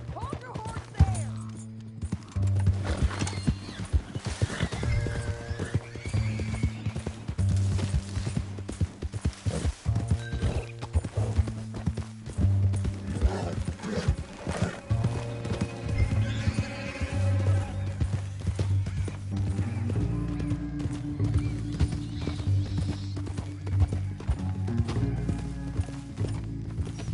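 Horse hooves clip-clop in the Western video game Red Dead Redemption 2, with a steady rhythmic trot under game music, a character's voice and occasional whinnies.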